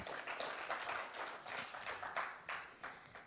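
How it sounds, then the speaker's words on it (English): An audience at a Nairobi tech week event claps as a speaker comes onto the stage, a moderately faint burst of scattered hand claps with uneven rhythm and no talking over it. "Let's clap for him as he comes."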